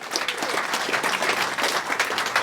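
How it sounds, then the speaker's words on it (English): An audience at a corporate speaking event applauds a first speaker, with dense, lively clapping and a few sharper individual claps standing out throughout the short burst. "Big round of applause for our first speaker."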